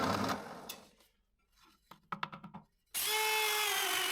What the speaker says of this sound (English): Then I drill a hole that is 6 centimeters in diameter.